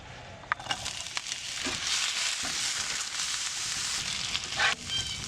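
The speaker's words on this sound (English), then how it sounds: "I'm going to wait till I see that onion sizzling a little bit" Onions and peppers sizzling in oil in a frying pan at a campsite, a steady close hiss with a few soft clicks and pops of stirring, and no talking.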